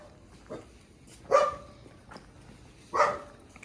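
Dogs at a poultry farm give a few sharp barks, two louder ones spaced well apart and fainter yelps between them, moderately close over quiet background noise.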